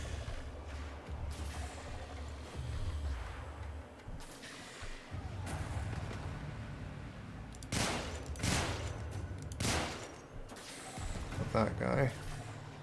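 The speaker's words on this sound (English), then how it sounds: "Where's more projectiles shooting at me?" Gunfire and projectiles in the video game Warframe, a steady rattle of shots and mechanical clatter with several sharper bursts in the second half, someone talking over it.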